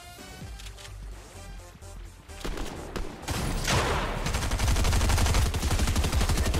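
Sustained gunfire in Fortnite, with a sniper rifle among the weapons in play, building from scattered shots into a dense, loud, continuous volley in the second half.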